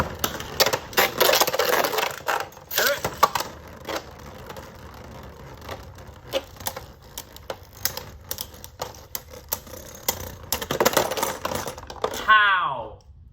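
Spriggan and Fafnir Beyblades are launched and then spin and clash in a stadium, with rapid metallic clicks, rattles and sharp collision hits, then a falling whir as one winds down near the end.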